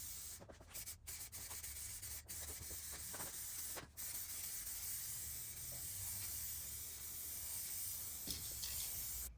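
Aerosol spray paint hisses close by in sustained bursts while base coat is sprayed on an RSX car, broken by a few brief pauses, with a soft background rumble.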